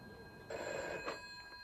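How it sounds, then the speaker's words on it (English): A telephone bell rings indoors at breakfast time, one short, fairly faint burst of ringing in a quiet room. "phone rang one breakfast time"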